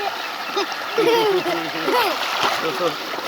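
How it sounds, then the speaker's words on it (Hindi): Children bathing in cold, fresh flowing water used to irrigate crops make steady splashing and gurgling sounds, with lively voices calling over the continuous water noise. "ये ताज़ा पानी आ रहा है, हमने फसलों को भी पानी लगाया हुआ है और ये बच्चे भी नहा रहे हैं"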